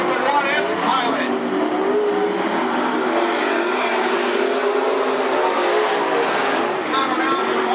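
Late model race cars circling the Cottage Grove Speedway track: continuous loud engine roar from the cars passing, under a race announcer's commentary.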